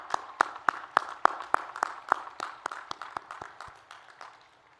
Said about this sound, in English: I think it's appropriate that we give them all a round of applause